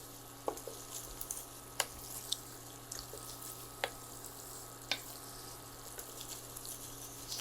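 Roux for a classic gumbo is stirred in a pot, faint soft sizzling under a steady hum, punctuated by light, irregular spoon scrapes and taps against the pot.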